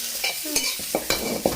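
Onions fry in a pan for chicken sukka, a loud continuous sizzle punctuated by five sharp scrapes as a spoon stirs them.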